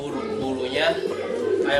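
A pigeon coos in soft throaty bursts, two low rolling calls close by, with people talking at the same time.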